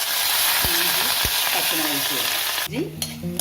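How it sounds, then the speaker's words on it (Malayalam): Mustard seeds spluttering and crackling in hot coconut oil, a loud, steady sizzle with dense popping and utensil scrapes, shifting near the end as a spoon clinks in the pan. "ഇപ്പം ചൂടാകുമ്പോൾ ഇപ്പോൾ കടുക് കൊടുക്കാം"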